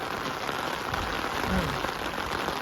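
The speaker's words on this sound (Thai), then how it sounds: "ฝนตกอีกนะ" Steady rain falls on a house in rural Thailand, a soft continuous hiss of drops on the roof and walls at moderate level, with faint voices in the background.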